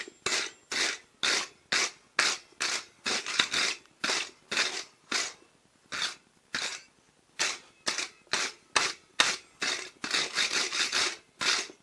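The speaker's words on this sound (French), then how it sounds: "Un bon coup de brosse." Rhythmic brush scrubbing on a wooden gate slide bolt part, a steady run of short, close rasping strokes with brief gaps, loud and alone without talk.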